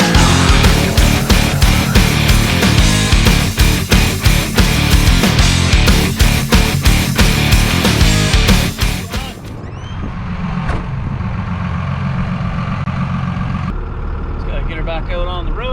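A second-generation Cummins diesel truck drives with a loud, rough engine drone that drops to a quieter running rumble partway through, while someone talks over it.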